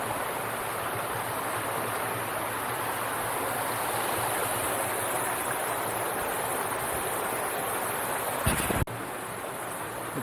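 A small, probably seasonal mountain stream runs over stones on a trail, giving a steady, close, broadband rush of flowing water with a brief louder splash or knock near the end; no talking.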